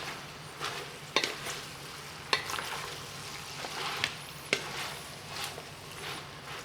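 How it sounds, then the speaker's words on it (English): Ingredients for Cajun red beans and rice browning in a pot, with a steady close sizzle and repeated scraping stirs that land as a few sharp clicks and knocks. No one speaks. "Now we're going to brown all this together."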